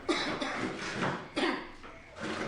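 Two or three harsh, close coughs break out at intervals, each a short rough burst of breath.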